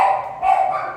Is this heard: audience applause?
no